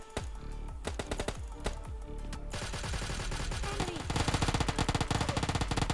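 Rapid automatic gunfire from an M4 rifle in a solo-versus-squad battle royale game, sustained bursts of sharp close shots that grow denser and louder toward the end, alone without talk.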